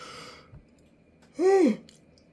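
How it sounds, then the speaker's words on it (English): A person yawns once in the middle of the recording, a drawn-out, rising and falling vocal sigh close to the mic. Softer breathy talk-like noise comes before it, and the room is quiet otherwise. "Another yawn."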